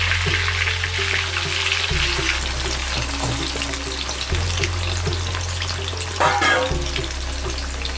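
Marinated raw banana pieces, coated in garlic paste and salt, fry in hot oil for a Tamil wedding-style vazhakkai masala, a loud continuous sizzle and crackle close by, with an occasional stir and a low steady hum underneath.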